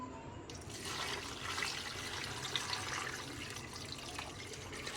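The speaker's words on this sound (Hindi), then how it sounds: "अब मैं इसमें 4 गिलास के करीब पानी ऐड करूँगी" Water pours steadily into a pressure cooker holding beef trotters, a continuous splashing gush after a brief quiet start, close by with no talking.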